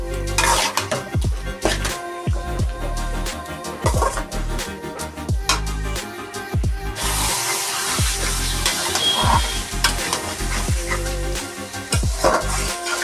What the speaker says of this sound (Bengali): এটা আমি দিয়ে দিচ্ছি, দিয়ে ভালো করে মাংসটাকে কষিয়ে নেবো।